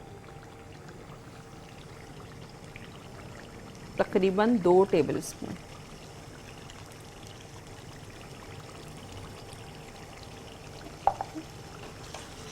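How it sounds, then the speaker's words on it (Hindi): Tamarind pulp poured into a cooking pot on a kitchen stove, a brief wet slosh lasting about a second, with someone speaking nearby and a faint tap later. "इसमें मैं इमली डाल रही हूँ, इमली का पल्प"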